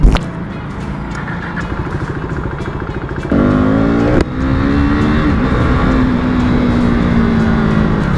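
A KTM RC 390 motorcycle riding on an empty road, its single-cylinder engine droning close by, then revving up through rising gear changes and holding a steady higher pitch, loud with wind noise.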